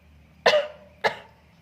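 Two sharp coughs, the first stronger, about half a second apart, close and clear against a quiet background.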